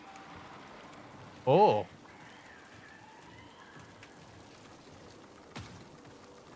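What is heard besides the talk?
rain falling in Marathon video game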